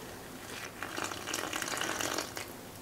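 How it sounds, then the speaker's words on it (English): Around 300 ml of lukewarm water poured onto pizza flour for dough, a steady close splashing gush that swells and fades over a few seconds with no talk. "then we add our 300 ml of water on top of that"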